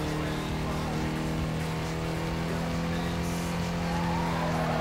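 A racing car drifts in Need for Speed: Carbon, its engine droning loudly and steadily as the tires squeal through a long slide, with a voice talking over the game sound.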